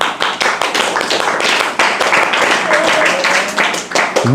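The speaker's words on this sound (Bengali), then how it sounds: "হাততালি দাও হাততালি দাও" Children clapping at an orphanage gathering, a fast, uneven burst of many hands applauding close by, lasting several seconds, with voices talking over it.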